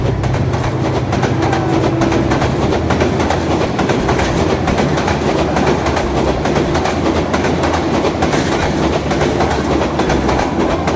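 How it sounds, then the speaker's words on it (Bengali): The Rangpur Express, hauled by a 3029-series locomotive, rolls through Azimnagar railway station, a loud continuous rumble of wheels and carriages close by with steady clatter, a brief horn-like tone early on, and no voices. "সাতশো একাত্তর up Rangpur express Azimnagar rail স্টেশনের দুই নম্বর লাইন দিয়ে এই মুহূর্তে প্রবেশ করছে"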